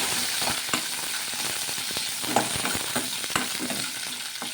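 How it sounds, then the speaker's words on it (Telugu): Urad dal, chana dal and green chillies fry in hot oil with a constant close sizzle. A spoon stirs the pan in scattered soft scrapes and clicks. "ఆయిల్ వేలెక్కిన తర్వాత మినప్పప్పు శనగపప్పు వేసుకోవాలి వేసుకొని కొంచెం కలర్ చేంజ్ అయ్యే వరకు వేయించుకోవాలి"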